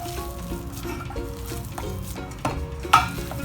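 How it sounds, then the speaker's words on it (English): Potatoes sautéing in a pan for a crispy chicken cutlet, a soft steady sizzle with intermittent scraping stirs and a couple of sharper utensil knocks against the pan. "Now let's saute the potatoes in."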